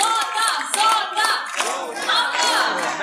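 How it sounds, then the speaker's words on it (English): Crowd clapping hands and shouting at a bird show at Jurong Bird Park in Singapore, supporting a blue and gold macaw, with rhythmic claps under loud chanting voices. "I need all of you to clap your hands"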